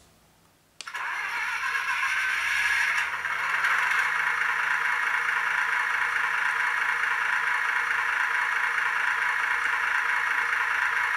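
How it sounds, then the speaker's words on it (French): The digital sound system of a model Berliet locotractor starts its engine with a sharp onset after a near-silent moment, then settles into a steady, loud, even diesel-like running drone that holds for several seconds. "Alors la mise en route du moteur."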